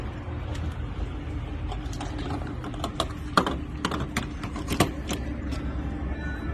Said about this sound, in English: I'll pump it in the gas.